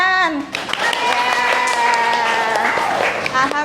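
Dense clapping from a group of schoolchildren in a classroom fills the clip, with a bright tonal voice or instrument sliding and sustaining over the applause.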